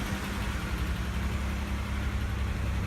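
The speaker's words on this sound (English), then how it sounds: "Engine sounds like it's got a little tick to it" A 2004 Chevy Impala engine idles steadily close by, a low, even rumble with a faint light tick running through it and no talk over it.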